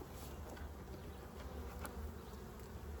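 Honey bees buzzing around heavy hive frames packed with nectar, a steady low drone from many bees close by, faint but continuous with no talk.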